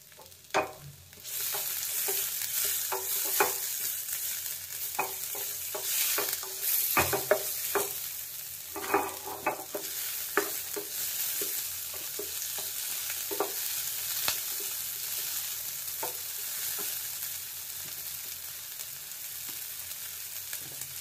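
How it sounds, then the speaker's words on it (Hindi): Chopped onion, carrot, garlic, green chili, beans and capsicum stir-fry in hot oil, a steady sizzle broken by repeated scraping and clacking stirring strokes. "कटा पियाज गाजर रसुण कंचा लंका एवं बीन्स कैप्सिकम को भल करी भाजीबा।"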